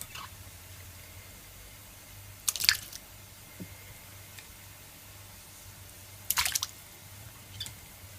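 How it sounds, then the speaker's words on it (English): Pieces of pigtail meat drop into a pot of water in a home kitchen, making two short wet splashes a few seconds apart over a quiet background. "So I'm just gonna add my pigtail now."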